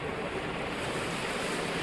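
A freshly repaired room air cooler running with its water turned on, giving a loud, steady broadband whoosh of fan air and rushing water, close and unbroken with no talking.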